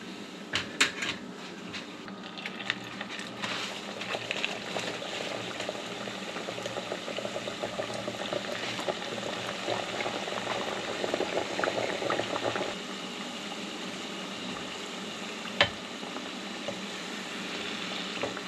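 Coconut cream pies with a flaky crust fry in hot oil, making a steady bubbling hiss at moderate level, with a few soft knocks and one sharp clack near the end.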